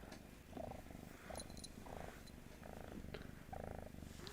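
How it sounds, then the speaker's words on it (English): A cat purring close up, a steady low rumbling drone that swells and eases in slow waves with each breath, continuous and alone without talk. "if you can hear an engine, sort of like a low engine, that's not me, that's the cat. Just purring."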